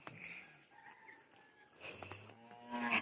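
Jersey cows low on a farm, a couple of deep moos rising near the end over quiet barnyard background, with a louder bellow closing it out.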